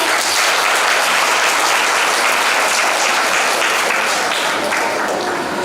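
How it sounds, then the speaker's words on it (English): A university auditorium audience at a budget analysis event gives a sustained round of applause, dense steady clapping filling the room at full loudness from start to finish. "So now, a big round of applause."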